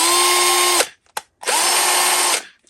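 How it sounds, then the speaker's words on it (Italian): A Parkside 12V cordless angle drill driver spinning its chuck in two steady, high whining bursts, separated by a brief click and pause, loud and close. "più premeremo il tasto più velocemente roterà il mandrino"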